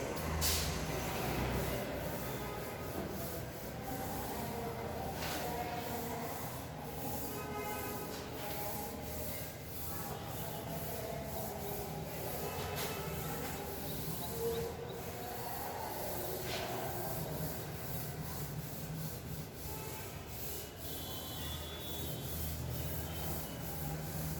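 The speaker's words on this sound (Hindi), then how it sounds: "Okay, now I will rub this." Writing from a maths lesson is wiped off a classroom board, giving a soft, steady rubbing and scrubbing that runs the whole stretch with faint repeated strokes and no voices.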